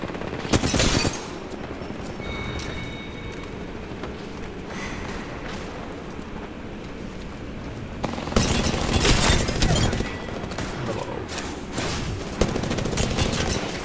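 Gunfire in Apex Legends comes in loud, close bursts: a sharp volley at the start, scattered single shots, then a longer sustained rattle of rapid fire near the end.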